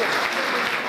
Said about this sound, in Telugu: మీ ఆనందాన్ని చప్పట్లో చూపించండి